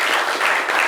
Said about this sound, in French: Applaudissez pour Ange,